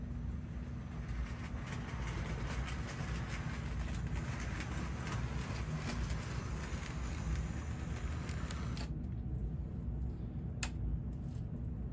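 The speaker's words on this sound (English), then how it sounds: "What you are seeing on screen now is the Spirit of the West locomotive" A Spirit of the West model locomotive from Bradford Exchange runs steadily along its track with a continuous rumbling, clattering hum that holds close and even, then thins out near the end.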